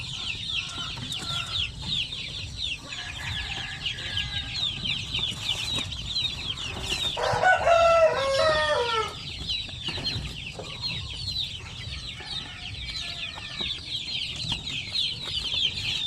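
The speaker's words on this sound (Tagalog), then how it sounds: "Ito sila ay mga 2 days old pa lang ito na mga sisiw na ito. So yung iba medyo maingay na, gutom na siguro." Two-day-old Basilan and Zampen native chicken chicks cheep hungrily in a dense, continuous chorus of high, rapid peeps, close and fairly loud throughout.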